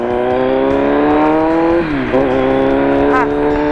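A Kawasaki Z900 motorcycle ridden at an easy pace, its engine droning steadily close by with a drop in pitch as it shifts, then a few rising revs and a brief tire-like squeal near the end.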